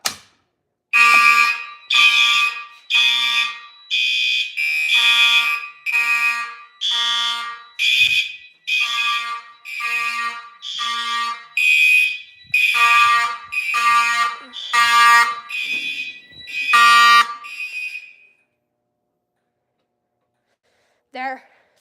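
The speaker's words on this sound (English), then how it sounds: "let's stop waiting and let's just pull some alarms" Pulled fire alarms blare in a long run of loud, evenly spaced electronic horn pulses, close and harsh, stopping abruptly before one last brief blast near the end.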